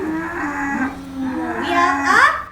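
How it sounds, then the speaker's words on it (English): A cow on a farm lows in a long, wavering moo with a strong harmonic tone that rises into a louder, strained bellow toward the end, heard close and alone. "We can find this cow in a farm."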